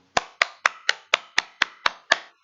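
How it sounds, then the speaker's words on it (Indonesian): Hands clapping in a primary-school mathematics lesson on integers: nine sharp, evenly spaced claps in a steady rhythm, close and crisp, with no voices over them. "Tepuk tangan untuk kita semua dulu"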